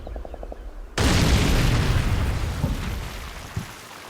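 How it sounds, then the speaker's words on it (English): A Sherman tank's main gun fires in the WWII tactics game Combat Mission, one sudden loud boom after a short quiet stretch, followed by a long rumbling decay with a smaller thump near the end. "The Sherman fires at our tank."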